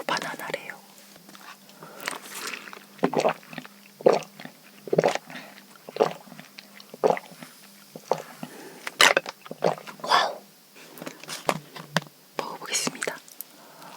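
Close-miked chewing and biting of a chocolate banana cream bread from a Korean convenience store, soft repeated wet crunches and mouth sounds in an irregular rhythm, with quiet whispering in between.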